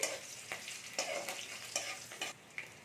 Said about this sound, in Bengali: এবার এই রসুনটাও আমি একটু ভাজতে দেবো